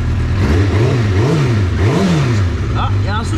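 A Honda Dominator SM motorcycle with an FCR41 carburettor, Came stage 2 and forged piston revs loud and close, the engine note rising and falling in repeated blips before settling to idle, with brief faint voices near the end.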